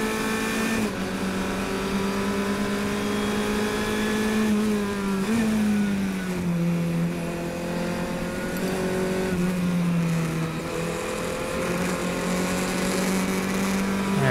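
An F500 race car engine drones steadily during a race through a series of S-bends, its pitch dipping and climbing as it shifts and accelerates, loud and continuous throughout with other cars faintly mixed in.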